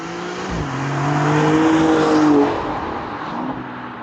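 A 2024 Maserati Grecale Trofeo SUV pulling away on the road, its engine rising through a steady revving pull, then easing off. It is loud and close, with no voices.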